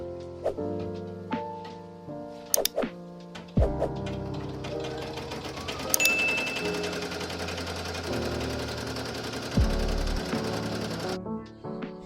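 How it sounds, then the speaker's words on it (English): Embroidery machine stitching down a twill patch, a steady rapid needle chatter with a low mechanical hum, starting after a few separate clunks and running loud and close until it stops abruptly near the end. "it's going to sew it down so that it does not move while it's embroidering the design"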